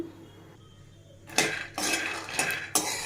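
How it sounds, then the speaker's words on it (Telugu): Peanuts roasted and stirred in a pan for a spicy peanut powder, heard as a few loud, close scraping and rattling strokes in quick bursts after a quiet start. "మాడిపోకుండా ఇలా కలుపుతూనే ఉండాలండి"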